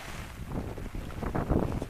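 Monsoon wind gusts rush and buffet the microphone in a rough, steady roar, swelling louder near the end, with a wet, watery wash of rain beneath.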